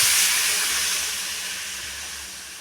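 Water is poured into a cooking pot of elephant foot yam, a steady hissing rush that starts loud and slowly tapers off, with no talking over it.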